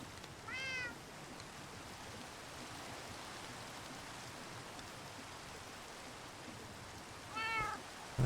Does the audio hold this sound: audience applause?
no